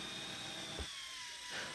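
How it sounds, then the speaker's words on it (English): A handheld drill spins a 3M adhesive removal wheel against a Corvette C7 Stingray's paint, a faint steady whine with a slight drop in pitch as load changes, no talk. "Obviously, the wheel is driven by a drill"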